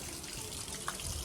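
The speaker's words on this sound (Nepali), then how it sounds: "ठुलो धार झरेर आउनु" Water gushing steadily from stone water spouts, a continuous rushing splash close by, filling the whole brief moment without any voices.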